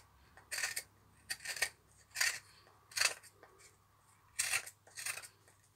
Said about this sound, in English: go back to your hook knife and just very gently, remember, cutting down, just take off